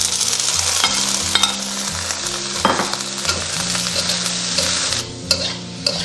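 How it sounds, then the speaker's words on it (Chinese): Shredded carrot and cabbage being stir-fried in a wok, a steady loud sizzle with repeated scraping and clanking strokes of the spatula throughout, no voices. "紧接着我们下入胡萝卜丝跟白菜，把这2个炒一下"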